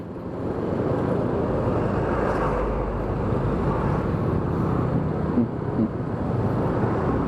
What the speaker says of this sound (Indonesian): Nah, ada mobil masuk.